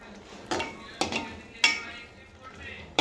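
Paneer being stirred into a shahi paneer gravy in a pan: a spoon scrapes and knocks at a slow, steady pace, about one stroke every half second, clear and close.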